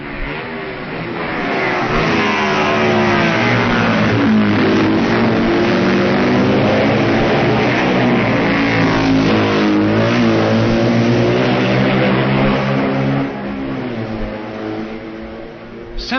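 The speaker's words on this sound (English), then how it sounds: "2 more BMWs are coming into the picture as first Heinz Lothringhauser and then Colin Seeley roar through Parliament Square" BMW racing sidecar outfits at the 1965 Isle of Man TT roar through Parliament Square in Ramsey, a loud sustained engine howl swelling as they pass close by, then easing away.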